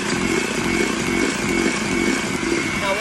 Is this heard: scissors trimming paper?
no